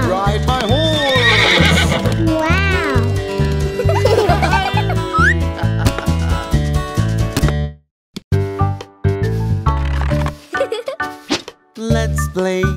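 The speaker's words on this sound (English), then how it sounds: "I am a horse, and I love to ride my horse." Cartoonish horse whinnies and clip-clop hoofbeats sound over a bouncy children's nursery song with a rhythmic beat, loud and up front, briefly dropping out before the music resumes.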